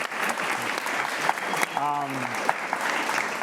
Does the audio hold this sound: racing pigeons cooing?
no